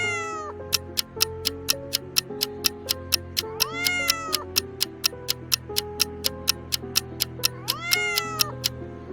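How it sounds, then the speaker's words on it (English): A cat meows repeatedly in drawn-out, rising calls, loud and close, set against a steady rapid clock-like ticking and a soft musical backing that runs throughout. "Martha is calling her cat"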